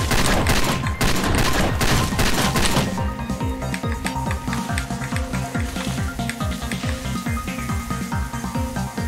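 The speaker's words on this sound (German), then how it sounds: "Irgendwer schießt doch hier schon wieder auf mich mit der Sniper." Rapid gunfire in the video game Far Cry 2, a dense burst of overlapping shots for the first few seconds, then a steady run of sharp, evenly spaced reports that keeps going to the end.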